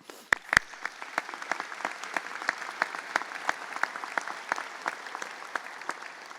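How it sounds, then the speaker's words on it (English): Applause from a graduation audience at a medical school commencement ceremony, a steady dense wash of clapping that holds evenly throughout, with a few sharper claps standing out near the start and no talk over it. "I think we could clap for that."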